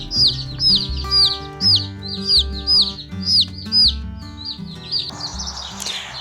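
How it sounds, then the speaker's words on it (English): Small chicks peep in a steady series of high, bright chirps, repeated close by over a low background hum. "I sit and hold these little baby chickens"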